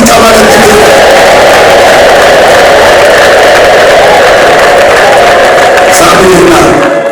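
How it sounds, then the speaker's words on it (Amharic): A church congregation at an Ethiopian evangelical service erupts in loud, sustained ululation and applause, a dense, continuous wall of high trilling voices and clapping that fills the hall without a break. "ታላቅ እልልታና ጭብጨባ ለጌታ።"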